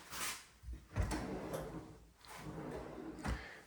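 A kitchen drawer in a village hall is slid open and pushed shut a few times nearby, giving rolling runner rumbles and soft thuds as it stops, with a faint voice in the background.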